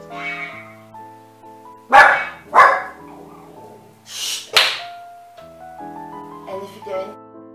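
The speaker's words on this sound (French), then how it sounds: "Et en plus, mon chien s'y met." A dog barks several times in short, sharp bursts over soft background music.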